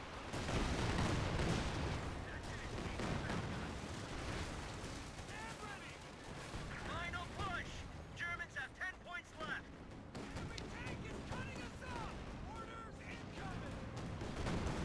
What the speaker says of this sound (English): Get my guys in there. Start throwing grenades.